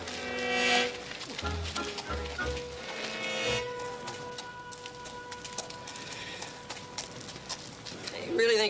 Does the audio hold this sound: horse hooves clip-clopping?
yes